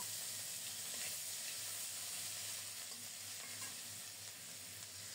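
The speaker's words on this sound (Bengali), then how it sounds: "কালো জিরা ফোড়নে দিলাম।" Black cumin seeds sizzle in hot oil as a tempering, a close, continuous crackling hiss that holds steady throughout with no talking.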